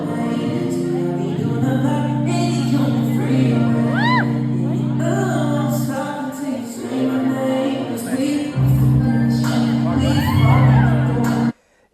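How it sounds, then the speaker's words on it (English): An audience at a Brazilian Zouk dance competition screams, whoops and cheers over loud music, with high excited yells rising in waves before ending abruptly. "Thanks for the screams, everybody."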